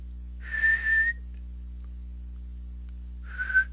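Two short whistled notes, the second briefer, separated by a pause of near silence over a low, steady electrical hum.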